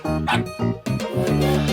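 A dog barks in a children's song about animal sounds on a train, several loud rhythmic barks in a row set to music.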